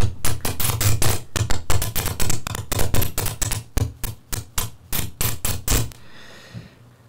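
Ctrl Freq Music Glitch Box producing rapid rhythmic bursts of harsh noisy glitch texture over a low droning hum, close and loud, the bursts stopping near the end to leave a faint airy tail.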